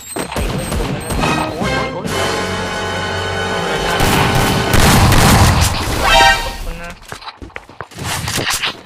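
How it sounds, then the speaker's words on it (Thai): Loud, chaotic game-style blasts and crashes with rapid gunfire-like bursts, dense and continuous, with a voice talking over the action. "มันโดนระเบิด"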